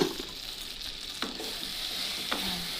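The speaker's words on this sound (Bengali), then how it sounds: "ফুলকপিটা আমার ভালোভাবে কষানো হয়ে গেছে" Cauliflower sautéing in a pan after cooking under a lid, with a steady close sizzle and a couple of spatula scrapes as it is stirred, and no talking.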